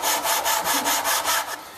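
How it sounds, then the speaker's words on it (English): Rhythmic back-and-forth scraping of masonite on a flat sanding board while squaring a picture frame, about eight even strokes, close and fairly loud, with no talk. "If you sand it flat, use a sanding board."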